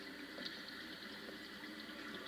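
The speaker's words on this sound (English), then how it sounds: "I hear water. From underground." Running water from somewhere underground near a cave, a faint, steady rushing wash that holds evenly throughout without pause, no voices.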